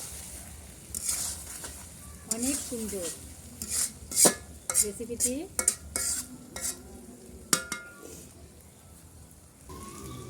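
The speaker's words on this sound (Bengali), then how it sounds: "আমাদের বেগুনগুলো সুন্দর ভাজা ভাজা হয়ে যাচ্ছে" Eggplant sizzling in a pan while a utensil stirs and scrapes in bursts, with clinks of cookware and a brief spoken comment over it.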